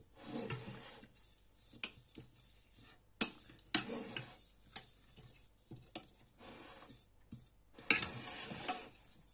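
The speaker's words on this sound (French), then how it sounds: "on va mélanger un petit peu justement" Marinated beef chuck steaks being mixed by hand in a bowl, with soft intermittent clinks, scrapes and wet stirring sounds, quiet and close, arriving in short irregular bursts.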